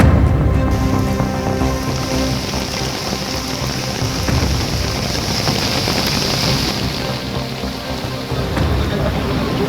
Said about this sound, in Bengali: কলকাতার বিভিন্ন জায়গায় প্রবল বৃষ্টি শুরু হয়েছে, সঙ্গে দমকা হওয়া।